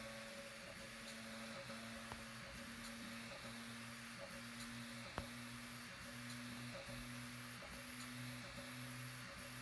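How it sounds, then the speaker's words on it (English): A Prusa MMU2 3D printer purges and prints, giving a faint steady motor whine and hum with regular soft stepping pulses and an occasional click, alone and quiet. "The extruder starts purging it a little bit, starts loading it in, and it's going to wipe a little bit to the block"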